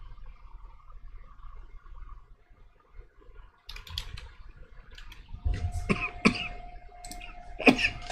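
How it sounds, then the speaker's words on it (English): A loud cough near a computer keyboard, with a couple of sharp bursts plus throat clearing over light typing and clicking in a quiet room. "I wish I could edit that cough out."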